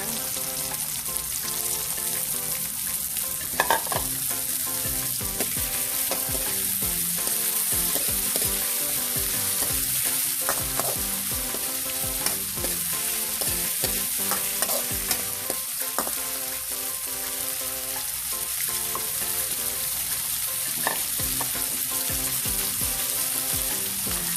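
Bitter gourd (ampalaya) fries in a pan for a monggo dish, a constant loud sizzle with stirring and occasional utensil scrapes throughout, no talking.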